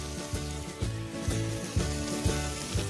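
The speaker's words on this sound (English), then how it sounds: "To cook my burgers, it will take probably about 3 to 4 minutes on each side." Burgers topped with cheese sizzle on a hot griddle, a steady close crackle and hiss with soft periodic swells, heard alone with no talking.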